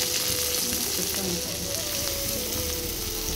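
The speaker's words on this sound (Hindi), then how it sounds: "एबे आम इस अदा रसुण पेस्ट पकईदे" Ginger-garlic paste frying in hot oil for an Odia ghanta curry, a steady soft sizzle running throughout, close and continuous, with faint speech-like murmur underneath.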